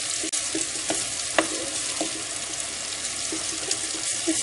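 Onions fry in a pan for Sri Lankan spiced chickpeas, producing a loud, close, steady sizzle broken by several stirring clicks and taps.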